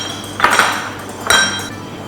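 A whisk clinks against the side of a bowl while mixing corn oil and milk into a chiffon cake batter, two short metallic bursts of tapping separated by a pause over quiet background hum.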